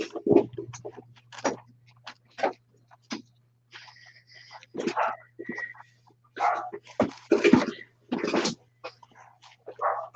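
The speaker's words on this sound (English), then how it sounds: "Gotta shut the door, the dog's barking." A dog barks in short, scattered bursts over a low steady hum, with quieter whimpering sounds between the louder barks.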